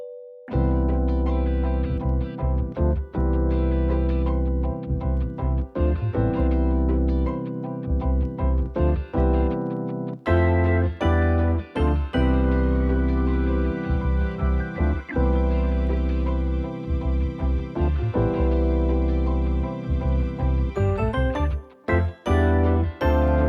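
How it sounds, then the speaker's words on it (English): Layered bell sounds from the Kontakt Factory Library ring over a boom bap beat built in Maschine, with bright chiming tones sitting above a punchy drum loop and bass across a continuous, loud musical passage. "They're just a few bells to add that higher frequency to finish off the instrumentation"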